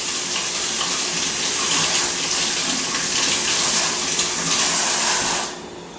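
Water runs steadily from a kitchen tap as a fork is rinsed under it, a close, continuous hiss that cuts off near the end.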